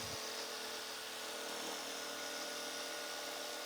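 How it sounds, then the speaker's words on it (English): A jigsaw cuts out the waste inside a router table template, starting from an access hole, giving a loud, continuous buzzing rasp at a steady pitch with no pauses. "Fit the blade of the jigsaw into the access hole and begin cutting along one side"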